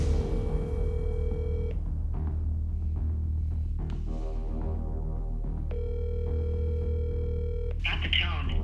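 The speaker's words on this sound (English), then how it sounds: "It only rang twice." A phone call's ringback tone sounds twice, two long steady purring rings separated by a pause, heard over low background hum with no talk.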